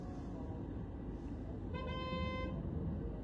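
A car horn sounds in one sustained honk of about a second amid steady road traffic noise.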